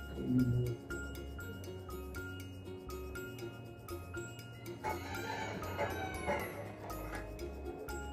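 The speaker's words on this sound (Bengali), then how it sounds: "আমি পরোটা ভাজা দিয়ে সকাল সকালে ব্লগটা শুরু করলাম আর দেখুন পাশের বাড়ি মোরগ ডাকছে" A rooster crows at a neighbouring house on a rainy morning, faint and distant, with a broadband burst of rain or background noise partway through.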